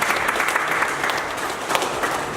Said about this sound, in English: I think it will be worth clapping for them again.